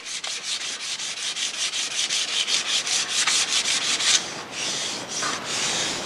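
Wood spinning on a lathe is sanded with 220 grit sandpaper, giving a close, rhythmic rasping rub with quick regular strokes that slow into longer sweeps toward the end.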